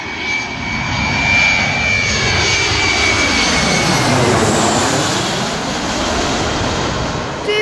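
A Boeing 737-500 roars low overhead on its landing approach, a loud continuous jet rumble that swells and sweeps in pitch as it passes, with no voices.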